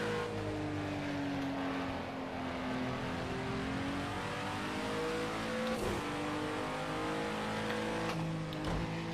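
A McLaren F1 engine races in the video game Project CARS 2, a loud continuous drone whose pitch rises and falls through gear changes and shifts in speed, with no talk over it.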